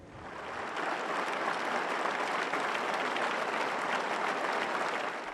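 A large outdoor crowd in Bury gives sustained applause at a tribute to a fallen soldier, swelling in as a dense, even roar of clapping that holds steady and then begins to ease.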